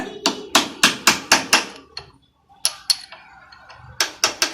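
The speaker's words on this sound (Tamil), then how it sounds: "சின்னதாக ஒரு சிசல் வச்சு தட்டினீங்கன்னாலே ரிமூவ் ஆகிடும்." Sharp metallic hammer taps on a chisel, loosening the fork cone set of a Splendor motorcycle: a quick run of six evenly spaced strikes, a pause, two more, then three at the end, close and loud.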